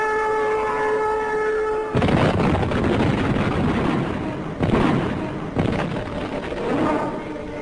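Artillery fire during a military training exercise: a steady tone gives way to loud, rumbling bursts of blasts and roaring noise that swell and fade across the clip, with no voices.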